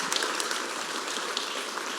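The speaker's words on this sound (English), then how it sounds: "big round of applause there" Audience applause at a park leadership summit keynote: a steady, dense wash of clapping hands that fills the whole stretch evenly at moderate volume, with no voices over it.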